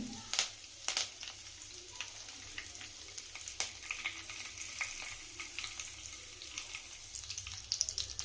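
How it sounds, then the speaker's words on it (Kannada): Curry leaves dropped into hot oil for a Kannada raw banana palya, giving a soft continuous sizzle with a few sharp crackles and stirring clicks near the start and end, close and moderately quiet, with no voices. "ನಾನಿಲ್ಲಿ ಸ್ವಲ್ಪ ಕರಿಬೇವನ್ನ ಹಾಕೊಳ್ತಾ ಇದ್ದೀನಿ"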